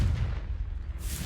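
A blasting fire spell detonates in a fantasy video game, a dense, rumbling low boom that sustains through the moment, with a brighter burst flaring up near the end.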